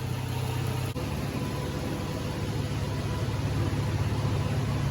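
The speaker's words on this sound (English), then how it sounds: "I'm gonna let it set here and idle." A Toyota 4Runner engine from the 2000 to 2010 model years, one with a no-start-when-warm fault, idles steadily after warming up. The drone is constant and close, with one faint click early on and no talking.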